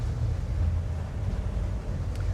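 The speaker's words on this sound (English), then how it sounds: "Wind is blowing from port to starboard." Steady wind buffeting a microphone on a Tesoro T40 motorboat, with a low rumbling roar and faint water wash throughout, no voices.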